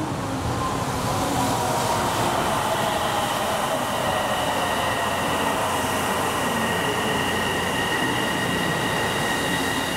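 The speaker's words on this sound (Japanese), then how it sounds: "線に神戸空港行き電車が参ります。" A train bound for Kobe Airport rolls steadily and loudly through a station, with a continuous rumble of wheels and faint high squealing tones, no voices.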